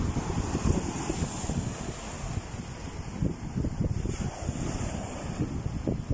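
Steady rumbling surf whipped up by Typhoon Mawar, with heavy wind buffeting the microphone, a constant low roar and no voices.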